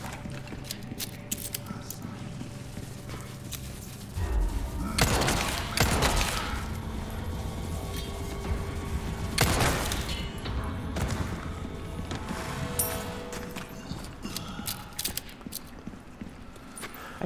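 Shotgun blasts in the Resident Evil 4 Remake on the island, two loud broadband bangs a few seconds apart over a low game ambience, with faint mechanical clicks and reloading between them.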